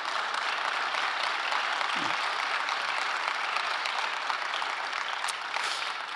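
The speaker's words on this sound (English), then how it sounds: "I'd like to ask you to give them a round of applause for their contributions this evening" An audience applauds a panel, a dense, even round of clapping that holds steady from start to end.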